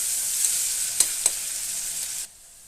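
Sliced onions frying in oil in a pan for veg pulao, a steady bright sizzle with two sharp pops, cutting off abruptly to near silence at the end.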